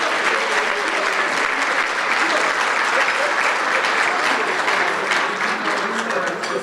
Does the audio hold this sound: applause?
yes